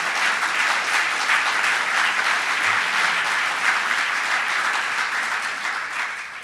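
Audience at the New York State gubernatorial inauguration in Buffalo applauds Mayor Byron Brown, a loud, sustained round of clapping from a large crowd that stays steady before tapering slightly at the end.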